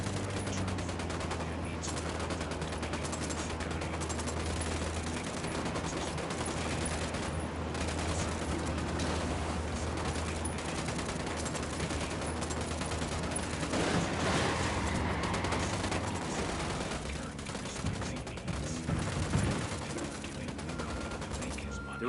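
Video game gunfire in Ghost Recon Wildlands: rapid bursts of shots and fusillades over a low steady background, fairly faint and distant, with a sharper cluster of shots near the end.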